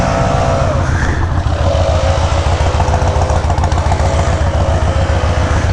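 Motorcycle engine fitted with a Graffeo exhaust system runs steadily and loud throughout, a deep, continuous throbbing rumble with no voices over it.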